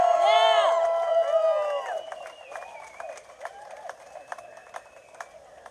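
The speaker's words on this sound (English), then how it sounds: "Big round of applause!" A crowd at an outdoor freedom rally in Australia cheers loudly at first, then settles into scattered, fairly distant clapping that thins out over several seconds.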